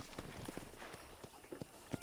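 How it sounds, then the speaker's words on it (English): Horse hooves clip-clopping in the Red Dead Redemption video game, a steady series of soft hoof hits under faint background sound, with a voice briefly audible. "I picked out a fine horse for you."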